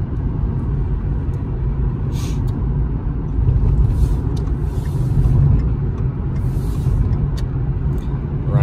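Inside a car cruising at about 50 mph and 1700 RPM, a steady low road-and-engine rumble carries on with faint air-conditioning airflow and a few brief light clicks.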